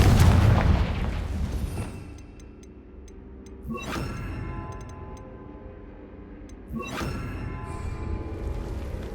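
A Confringo explosive spell fires in the video game Hogwarts Legacy, giving two sharp booming blasts about three seconds apart over low game ambience.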